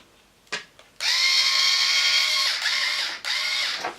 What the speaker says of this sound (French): Je suis déjà équipée d'une mini perceuse que je vous ai pas montré aussi.